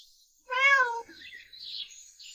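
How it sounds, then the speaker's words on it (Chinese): A kitten gives one clear, rising-and-falling meow up close, followed by faint rustling in a quiet room. "小猫"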